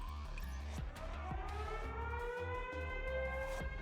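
Alarm siren in the video game Neural Cloud, a fire alarm wailing with rising and falling pitch sweeps over a steady low electronic drone and music, loud and continuous without speech.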